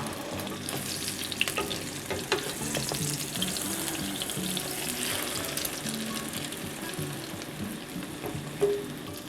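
Beaten egg for a fluffy Thai omelette frying in very hot oil over high heat, a loud, dense, continuous sizzle and bubbling crackle that holds steady throughout, with no voices.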